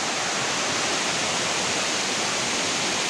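Nang Khruan waterfall in Phop Phra district, Tak, roars as a dense, unbroken wash of falling water, steady and loud from start to finish with no voices.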